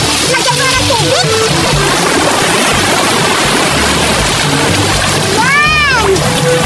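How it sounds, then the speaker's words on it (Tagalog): Seawater splashes and rushes steadily into a barrel being filled at the sea, loud and continuous at close range throughout. "Lagyan ko na ng tubig."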